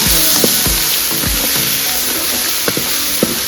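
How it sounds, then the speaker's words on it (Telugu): Coriander, mint and curry leaves sizzle loudly in a pan, with steady hissing and repeated spoon knocks and scrapes as they are stirred, close and without talk. "కొద్దిగా కొత్తిమీర, పుదీనా, కరివేపాకు వేసుకోవాలి. కలుపుకోవాలి."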